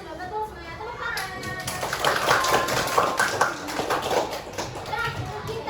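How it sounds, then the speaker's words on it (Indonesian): Fourth-grade pupils clapping in a classroom, a quick run of rhythmic hand claps mixed with children's excited voices and chatter throughout. "Tepuk tangan."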